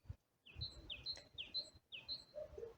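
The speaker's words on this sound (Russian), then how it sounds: "Птичка поет." A small bird sings repeated high, bright chirping phrases in short bursts, fairly close, over a low rumbling background.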